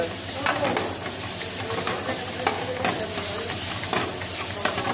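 Chicken cooking in a spiced gravy in a pan while masala is added, a soft steady sizzle and bubbling with occasional stirring scrapes, close by and faint.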